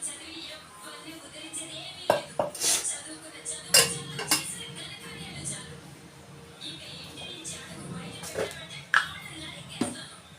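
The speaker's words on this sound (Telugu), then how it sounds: "ఇప్పుడు పొయ్యి మీద గిన్నె పెట్టుకొని నూనె పోసుకుంటున్నానండి తాలింపుకి" A pot knocks against a stove and metal clinks while oil is poured in for tempering, a few sharp close clanks amid faint scraping, with someone talking throughout.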